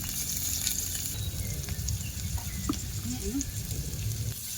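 Tofu frying in a pan of oil for adobong kangkong, giving a steady close sizzle throughout, with a brief spoken word near the end.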